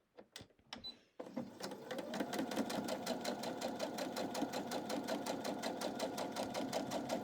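A sewing machine stitches a quarter-inch seam allowance on a flying geese quilt block, starting after a few short taps and then running steadily in a fast, even rhythm, close and loud, with no talking.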